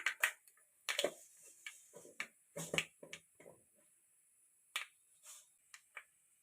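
Mustard seeds spluttering in hot oil in a pan, a series of sharp, irregular pops and crackles close by, with no talking.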